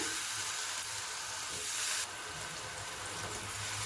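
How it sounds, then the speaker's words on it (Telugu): Brinjal pieces frying in a little oil in a kadai give a steady, close, even sizzle throughout, with a slight change in the hiss partway through and no talk. "అదే కళాయిలో కొంచెం ఆయిల్ వేసామండి వేసి వంకాయ ముక్కలు వేసేసుకుంటున్నాం"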